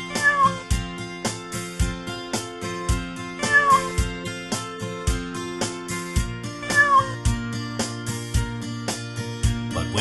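A cat meows repeatedly, the cries rising and falling over a rhythmic musical backing with a steady beat, each meow clear above the music.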